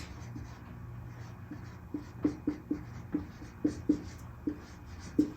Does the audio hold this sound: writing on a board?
yes